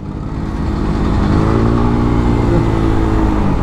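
A Kymco KRV Moto 180 motorcycle engine revs loudly and continuously up close, with a gritty, rumbling roar that surges and holds steady throughout.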